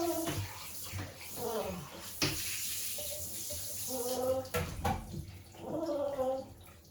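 Running water rinses conditioner out of a dog's coat during grooming, splashing and pouring unevenly, with a person talking over it at times.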